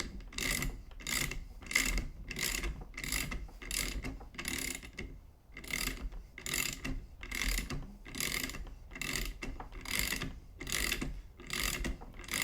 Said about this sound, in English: Well, we'll use a ratchet.